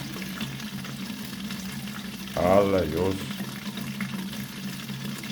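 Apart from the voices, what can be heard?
noisy water flow from main outlet during aquarium water change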